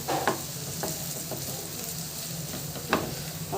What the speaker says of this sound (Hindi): सभी चीज़ों को अच्छे से मिक्स कर लेंगे।